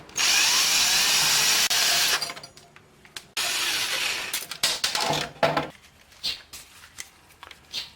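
A power drill backs screws out of the factory stereo in a Nissan Sentra, a loud steady whir for about two seconds, then another run, followed by scattered clicks, knocks and rattles as parts are handled up close.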